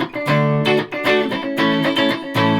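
A Gibson Les Paul tribute electric guitar is played with its phase switch on and heavy reverb, giving a few ringing, slightly thin strummed chords in quick succession.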